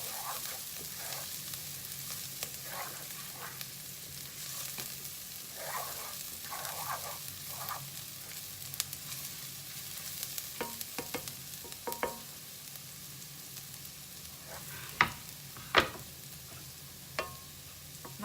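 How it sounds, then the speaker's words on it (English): Ginger and garlic fry in a pan with a soft, steady sizzle underneath, while scattered scrapes and taps from stirring grow sharper and louder toward the end; no talking. "Stir it for a minute so the smell of ginger and garlic goes away."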